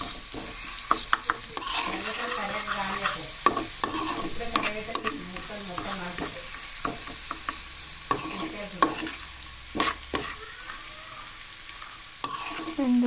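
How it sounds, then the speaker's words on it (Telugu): Dried chilies and curry leaves frying with tempering spices in a pan for a potato fry, a continuous close sizzle under repeated spoon stirs and sharp metal scrapes. "ఇలా పోపులు మిర్చి అండ్ కరివేపాకు కొంచెం వేగాక"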